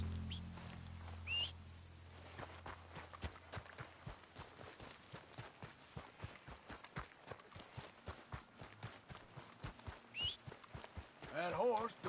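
Steady clip-clop of horse hooves walking in Red Dead Redemption 2, an even rhythm of close hoofbeats with a few faint bird calls and a brief voice near the end.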